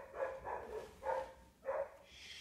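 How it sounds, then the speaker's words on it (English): A dog barks four times in quick, loud bursts close by, with short gaps between the barks and no one talking. "Shut up, dog!"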